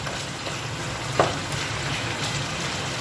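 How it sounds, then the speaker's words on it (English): Tomatoes frying over low heat in a pot with fried onions for Swahili biryani, giving a steady, even sizzle throughout with one brief click partway through. "After letting the tomatoes fry or get steamed, get cooked under low heat."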